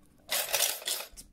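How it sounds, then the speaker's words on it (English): Pennies and keys rattling inside a shaken lockbox, a short burst of loud metallic jingling and clinking lasting about a second. "Sounds like pennies and keys."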